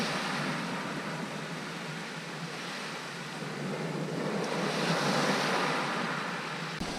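Steady wind roars along the shore at Langney Point, Eastbourne, with surf rushing underneath, a continuous wash that swells slightly louder toward the end.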